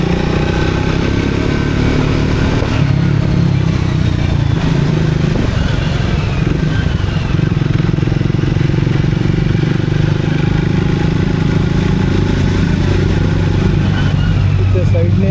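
A motorcycle ridden along the Pune–Kalamboli road while overtaking, steady engine drone and wind rumble close up, with a person talking over the ride.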